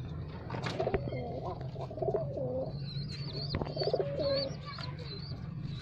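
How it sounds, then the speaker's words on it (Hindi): Giribaz pigeons coo in soft repeated low rolling phrases, close by, at a pigeon loft in Canning, West Bengal, India, with a few higher chirps and a constant low hum in the background. "और एक गिरिबाज कबूतर,"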